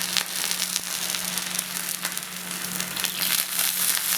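Potato breakfast dough cooking on an oiled griddle stone, giving a steady close sizzle and crackle with a low hum underneath, no talking.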